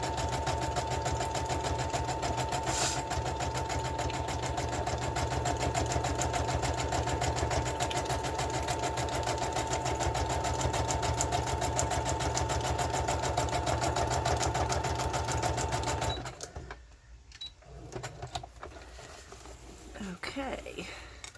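A sewing machine runs steadily and close, stitching a collage journal cover from fabric scraps with a dense, even mechanical patter for about sixteen seconds, then stops, leaving faint handling noises.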